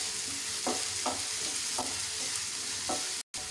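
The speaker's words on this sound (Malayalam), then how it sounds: "ഇനി നന്നായിട്ടൊന്ന് ഇളക്കി കൊടുക്കാം" Onions fry in a pan with a constant sizzle, while a utensil scrapes through them in several separate strokes at a slow, uneven pace. A brief dropout comes near the end.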